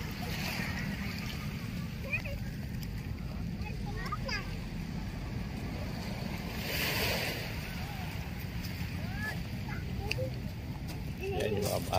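Steady outdoor morning wind noise at Manila Bay rushing across the microphone, with faint water and distant voices underneath.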